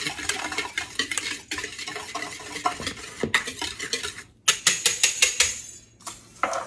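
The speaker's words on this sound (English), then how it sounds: "I'm going to whisk this around together" A whisk beats a protein pudding mixture in a bowl, rapid rhythmic clinking and scraping strokes in uneven bursts with short pauses, close and clear.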